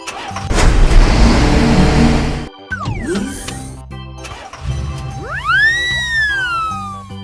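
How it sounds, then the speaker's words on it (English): A garbage truck engine gives a loud, close rumble for about two seconds, followed by assorted vehicle noises and a rising, falling siren wail. "Garbage truck."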